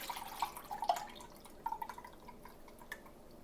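Liquid from a fermented garlic and green chili pepper mash drains in faint, irregular drips and trickles, quiet and close, with no voices.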